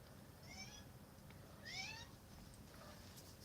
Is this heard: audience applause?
no